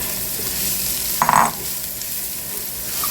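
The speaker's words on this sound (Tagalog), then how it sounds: "Atin na po ilagay ang ating ampalaya. Ayan. Para po maluto na siya." Sliced bitter gourd (ampalaya) going into a hot pan, with a sharp sizzling burst as it lands, then settling into a quieter, steady frying hiss.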